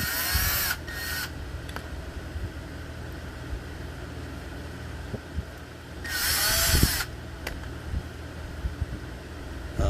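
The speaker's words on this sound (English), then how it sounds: "I'm going to go ahead and use a drill." Power drill driving screws on an Axial SCX24 RC car, whirring in two short bursts, the second longer, with brief clunks and a steady mechanical hum in between.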